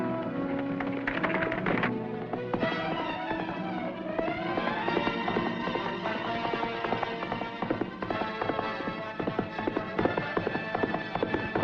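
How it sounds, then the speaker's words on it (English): Horse hooves clatter in a steady galloping rhythm amid a busy, loud old Western film soundtrack with music, continuing throughout with no voices. "Yep, that's the marshal's horse, all right."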